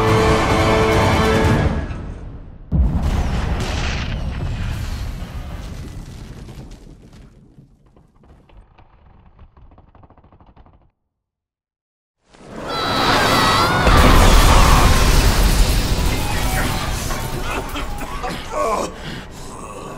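Heavy booming blasts and whooshes from shooting tanks in the first-person shooter Bulletstorm, loud dense bursts that break off into a near-silent gap before another roaring burst of explosions returns.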